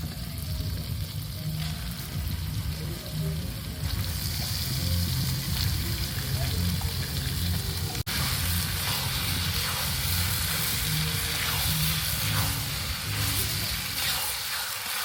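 Washed pork pieces go into a pan holding a little water for a spicy masala pork curry cooked outdoors in a village, giving a steady, close, loud frying sizzle that runs throughout with stirring scrapes and a low voice murmuring underneath.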